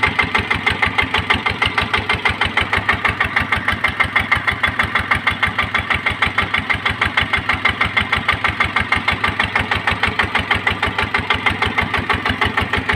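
A Magnum 155 engine driving a pump that draws water from a river runs steadily close by, a fast, even chugging beat that keeps going throughout with no voices over it.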